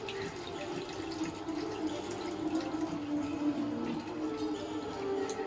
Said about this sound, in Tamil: அப்படியே புளி கரைசலை ஊற்றிக்கிடுவேன்